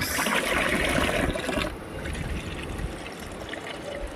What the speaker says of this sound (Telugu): we can observe here compost water I'm giving to each and every plant